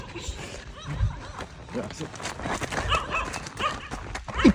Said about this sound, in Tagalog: Ito, may aso. May aso.